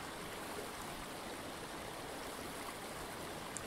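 The River Tummel in Scotland runs past a riverbank as a steady, broad rush of flowing water, constant and moderately distant with no other sounds.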